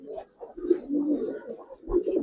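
A Giribaz pigeon coos nearby in a couple of soft, throaty rolling phrases, close and clear with no voices over it.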